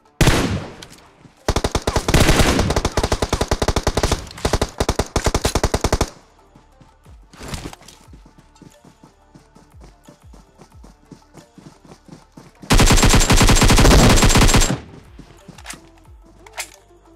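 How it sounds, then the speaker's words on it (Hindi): Bursts of rapid automatic gunfire in PUBG Mobile on the Livik map, two long loud volleys separated by quieter stretches of scattered shots, footsteps and game sounds. "गोली चलाई जा रहा है"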